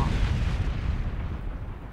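A loud cartoon explosion from the Kick The Buddy mobile game, set off against a Hulk-style buddy in a machine vise. It booms as a sustained, rumbling blast that fills two seconds with no talking over it.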